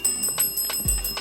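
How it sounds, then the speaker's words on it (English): A quiz match bell rings out to signal the end of the final round, a bright repeated ringing tone struck several times in quick succession, close and clear with no voices over it. "And that's the bell."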